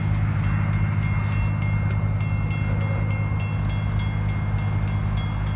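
An XPT passenger train rumbles steadily past close by at a level crossing with a rhythmic clatter of wheels over the rails, loud and continuous throughout. No one speaks.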